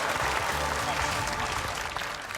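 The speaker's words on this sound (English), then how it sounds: "Round of applause." Applause from a studio audience at a magic game show, a dense steady wash of many hands clapping at close range that thins slightly toward the end.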